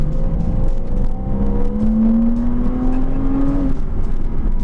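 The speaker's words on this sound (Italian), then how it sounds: "Dietro abbiamo un 6 cilindri boxer aspirato che di serie sviluppa 295 cavalli e 340 Nm di coppia" A Porsche Cayman S 987 with a mid-mounted, naturally aspirated flat-six of 295 horsepower drones loudly and steadily while driving, its pitch rising smoothly under acceleration before easing off, heard from close inside the car.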